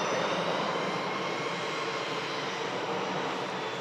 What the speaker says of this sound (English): We also have the Aer Lingus now back on the taxi for Bridgetown.